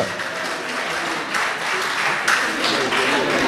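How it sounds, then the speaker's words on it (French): A crowd applauds warmly, a continuous wash of clapping hands, fairly loud, with some swelling toward the end. "des applaudissements pour Boyline encore, s'il vous plaît"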